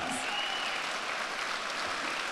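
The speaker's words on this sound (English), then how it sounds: "Let's give a round of applause." Audience applause at a community and memorial awards ceremony, steady dense clapping filling the whole stretch at moderate level, with no voices over it.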